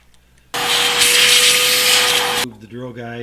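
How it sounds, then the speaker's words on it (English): A thread-tapping tool cuts an M6x1 thread for a milling machine Z-axis power feed mount, a loud, steady whirring grind lasting about two seconds before stopping abruptly, followed by someone talking. "Now we'll tap it."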